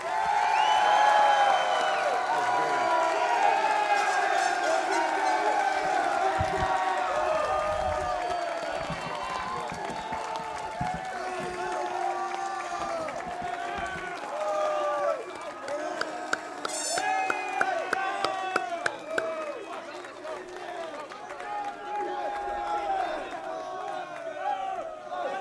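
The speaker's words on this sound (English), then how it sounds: "One last huge round of applause for the class of 2023." A crowd claps and cheers for the graduating class of 2023 at the Army and Navy Academy commencement ceremony, loud at first and then tapering into scattered clapping and voices over about twenty-five seconds.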